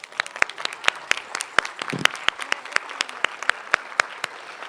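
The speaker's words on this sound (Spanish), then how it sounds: "Entonces, un aplauso para Azcapotzalco." A small audience at a borough government presentation of a human rights and culture of peace program in Azcapotzalco claps, giving sparse, distinct hand claps in an uneven rhythm, close by and fairly loud.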